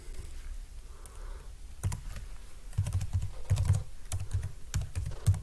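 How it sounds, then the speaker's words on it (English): Fingers tap out an email address on a computer keyboard, a close, soft run of irregular key clicks that grows busier after a quiet start. "I'll type in my email."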